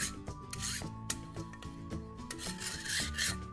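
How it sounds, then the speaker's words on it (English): Drywall rasp scraping along the edges of a mold in short repeated strokes, a close, dry rasping texture in steady bursts with no talking. "This is a sheetrock rasp or a drywall rasp. You're just going to go over the edges just to take them down."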